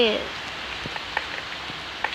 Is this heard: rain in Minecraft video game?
yes